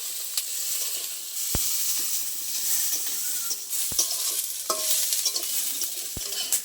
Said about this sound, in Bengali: হালকা করে একটু নেড়ে নেবো, কিন্তু কালার আসবে না, জাস্ট একটু কাঁচা গন্ধটা যাওয়ার জন্য।